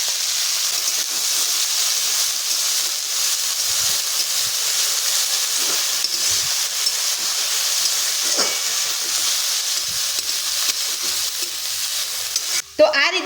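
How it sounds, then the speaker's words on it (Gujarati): Chopped garlic and fresh fenugreek leaves sauté in ghee: a long, steady, loud hissing sizzle with faint stirring movements, ending in a quick clatter of a utensil. "તો આ રીતે ભાજીને આપણે અહીંયા ઘીમાં સાતળી લેવાની છે।"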